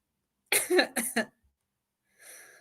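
A few sharp, close coughs in quick succession, followed by a pause and a softer raspy breath or throat sound.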